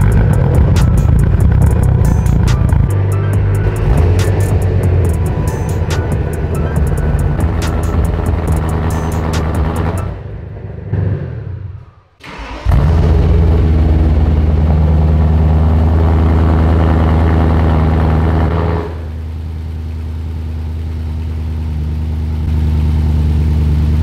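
A BMW M3 engine runs loudly and steadily in a shop, dropping out briefly midway before resuming with a rough, uneven mechanical drone underneath.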